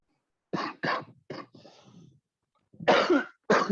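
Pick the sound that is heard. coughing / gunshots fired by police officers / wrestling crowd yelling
coughing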